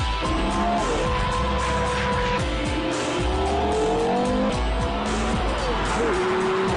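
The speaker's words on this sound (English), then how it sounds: "Listen to that engine!" A Porsche Carrera GT's 5.7-litre V10 engine screams continuously at high revs, with rising and falling pitch sweeps as gears shift, loud and close throughout.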